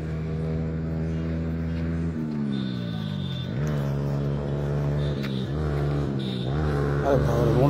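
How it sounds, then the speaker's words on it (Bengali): A motorcycle passes along a road beside the open ground of the Gomti river in Comilla, a loud engine drone whose pitch sweeps up and down as it nears and goes by. "আরে বাবা, মোটরসাইকেল কি আওয়াজ"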